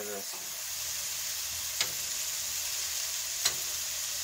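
Keto bacon mushroom Swiss burgers frying in butter in a pan, an even, continuous sizzle up close with two brief sharp clicks of a utensil and no talking.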